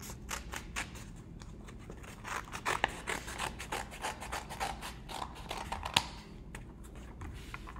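Scissors cut one long strip of paper for a children's colour craft, with a rapid series of crisp, close snips and slicing rasps in an otherwise quiet room.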